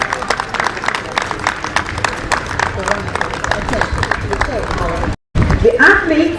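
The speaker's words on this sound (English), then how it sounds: "Let's give the yellow team a round of applause." Crowd applauding at a secondary schools' athletics championship in Barbados, sustained clapping from a large stadium audience with crowd noise and a voice over a loudspeaker, cut by a brief dropout near the end.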